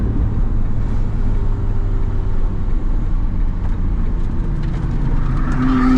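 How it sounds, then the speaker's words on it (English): A race car at Las Vegas Motor Speedway closes in and passes alongside a McLaren 750S, its engine note rising over the steady loud roar of the McLaren's own engine and wind throughout. "race car coming up on us"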